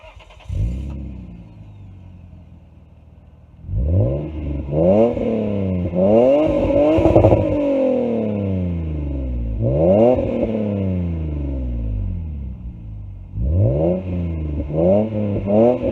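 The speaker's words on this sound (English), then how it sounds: "I'm about to do a little exhaust sound for y'all." A Lexus SC300 exhaust, nearby and loud, after a quiet idle, answers repeated throttle blips with rising and falling revs in uneven bursts.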